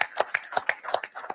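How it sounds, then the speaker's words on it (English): A small group claps at a driver meeting, a brief burst of close, uneven handclaps. "let's give our folks at all three locations a round of applause"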